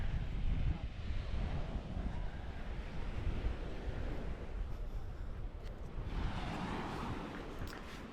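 Ocean surf at Navarre Beach: a continuous wash of waves rolling in on the shore, with heavy wind buffeting the microphone and no talking.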